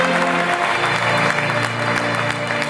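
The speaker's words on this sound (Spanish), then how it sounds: "denle un aplauso a Julián" Church congregation applauding during a pastor's sermon at a campaign service, a dense, steady wash of clapping that holds at even loudness for the whole stretch with a faint tonal hum beneath.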